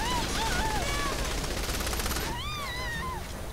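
Dense rapid gunfire rattles continuously in Saints Row the Third, loud and close, amid burning flames and shifting electronic whine, with no pauses across the stretch.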